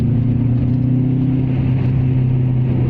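Subaru Impreza engine running, a loud, steady burbling drone with a low, lumpy throb, held close and continuous with no talking.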